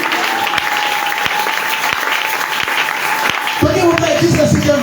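A church congregation applauds and cheers for Jesus in a continuous, dense wash of clapping and crowd noise, with a voice speaking over it and a louder swell toward the end.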